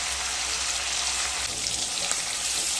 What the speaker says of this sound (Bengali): পনিরগুলোকেও হালকা ভেজে নেব।